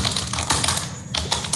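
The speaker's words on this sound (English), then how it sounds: "here I am typing a demo, or you can say just for the sake of example, I am typing like that." Rapid, close, loud clicking of keys on a computer keyboard, the taps coming in quick uneven bursts with no one speaking.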